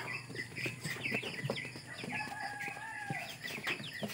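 Rhode Island Red chickens cluck and call at feeding time on a small farm, their repeated calls faint and somewhat distant over a soft, steady background.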